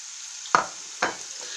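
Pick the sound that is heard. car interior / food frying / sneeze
food frying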